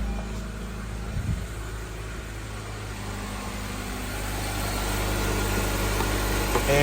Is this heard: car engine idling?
yes